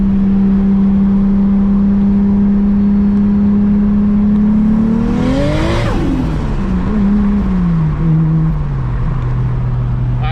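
A Nissan R32 GTR engine, running lean on worn injectors, holds a steady drone before revving hard and rising in pitch during a gear pull on a Texas road, then drops back as the revs fall away.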